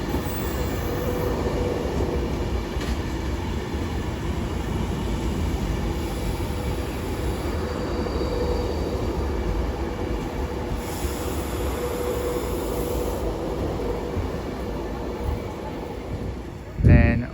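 A Class 390 Pendolino train departs a London terminus with a steady, loud rail rumble throughout and a brief wheel squeal near the end, with no one speaking.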